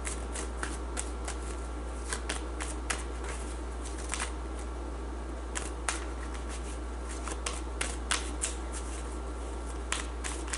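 Tarot cards being shuffled and pulled from the deck: close, crisp riffling and flicking of cards in irregular bursts over a low steady hum, with no talking.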